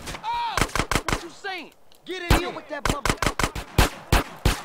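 Police gunfire in GTA San Andreas: rapid bursts of sharp shots, some in quick automatic strings, with a short lull midway before the shooting resumes, loud and close.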